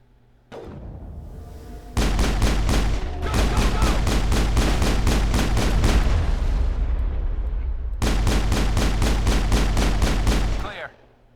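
Rapid, sustained gunfire from the sci-fi shooter Mass Effect, a dense run of loud repeated shots in two long bursts with a short break between, close and dominant with no talk over it.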